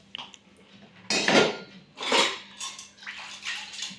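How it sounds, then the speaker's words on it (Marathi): Dishes, pots and pans being scrubbed and washed in a home kitchen, with bursts of clattering metal and running water in three or four uneven scrubbing strokes, near and moderately loud, with no talk. "आता भांडी घासायची आणि शेगडी धुवून काढायची परत"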